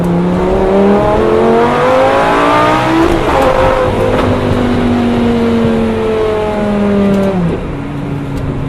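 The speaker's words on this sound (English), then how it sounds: "there's something about being thrown back into your seat when the shifts happen. Just downshifts in this car." A Lamborghini Gallardo engine roars loudly on a cold night drive, revs climbing and dropping in repeated sweeps as it downshifts, with steady road noise and no talking.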